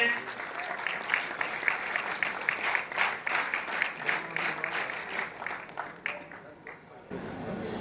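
Sustained applause from a large audience at an ITI Jamnagar skill-honour award ceremony in a town hall, dense steady clapping for several seconds that thins out near the end.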